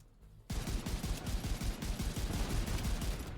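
Sustained automatic gunfire from the video game The Division 2 starts abruptly and keeps hammering in a dense, rapid stream of loud shots aimed at an enemy, with no talking over it.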